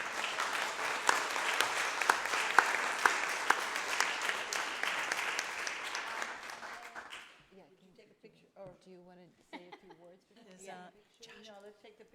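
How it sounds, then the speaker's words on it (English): Audience applause at a community college district board meeting swells for about seven seconds and then cuts off, giving way to people talking nearby. "So please give her a round of applause."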